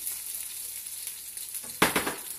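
Bread soaked for pain perdu hits hot butter in a pan and sizzles. A steady low frying hiss swells suddenly into a loud, crackling burst near the end.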